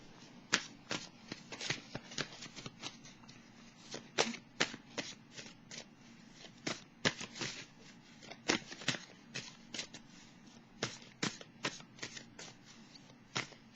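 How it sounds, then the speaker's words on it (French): Tarot cards being shuffled by hand, close and crisp, a long run of rapid riffling flutters and soft taps repeating at an uneven pace, with no voices. "Je vais piger maintenant une carte pour le signe du Gémeaux"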